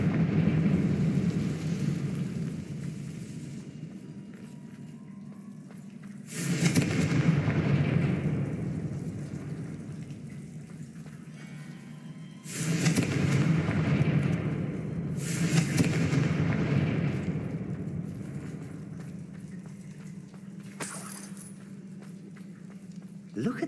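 Confringo and Bombarda spells fired in Hogwarts Legacy, a game, land as about four loud, broad fiery blasts spaced several seconds apart, each swelling and fading over a steady low rumbling ambience.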